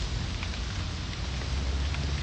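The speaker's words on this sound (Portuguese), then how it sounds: "essa chuva não vai matar ninguém." Rain falling during a church service, a steady dense hiss of drops on a surface, continuous and even, with no voices.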